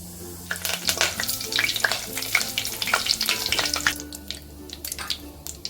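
Several large spoonfuls of cooking oil heat in a pan for Kolhapuri misal, crackling and sizzling busily up close with scattered sharp pops and clinks, no talk.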